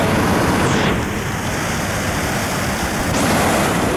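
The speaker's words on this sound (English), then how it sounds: "the mighty Iguazu River falling and creating this absolutely fantastic cascade" Iguazu Falls at the Devil's Throat on the Argentine side, the Iguazu River cascading in a dense, unbroken roar that stays loud and even from start to finish.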